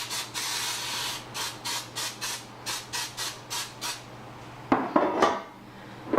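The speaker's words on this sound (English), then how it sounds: "Take your non-stick loaf pan and you definitely want to spray it." A run of short, regular cooking-spray hisses about a dozen times onto a non-stick loaf pan, then the metal pan clatters and scrapes nearby.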